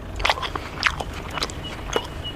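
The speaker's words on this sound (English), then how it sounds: "Smarty Pants, can you guess what the kangaroos are munching on?" Grey kangaroos grazing in a field, chewing grass with a few crisp, close biting and tearing bursts spread irregularly over a couple of seconds against a quiet outdoor background.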